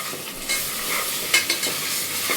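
Prawn biryani masala fries in hot oil with a steady close sizzle, while a spoon scrapes and stirs through it in a few distinct strokes.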